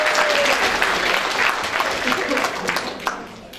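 An audience applauds, a dense, continuous wash of clapping that stays loud and close before easing off slightly toward the end.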